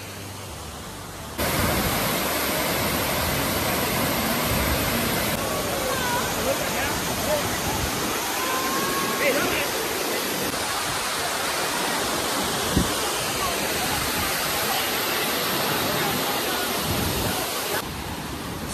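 Bamanbudo waterfall in Netravali Wildlife Sanctuary, Goa, during the monsoon, with water pouring and flowing in a steady, loud broadband roar that fills the whole scene.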